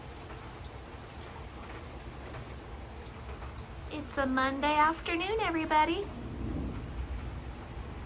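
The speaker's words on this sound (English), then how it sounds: "And it's raining." Steady rain falls outdoors on an afternoon with sunshine, a soft continuous patter and hiss throughout, while someone talks briefly over it midway.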